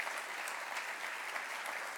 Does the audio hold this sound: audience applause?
yes